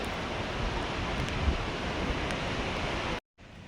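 Steady roar of Bahubali Waterfall, a dense broadband rush of falling water mixed with wind buffeting the microphone, constant and loud, briefly cutting out near the end before resuming.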